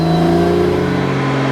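A car engine revs up in quick throttle blips and then holds a steady high-rpm drone during a catalytic cleaning setup procedure. The sound is close and loud and continuous, with no voices.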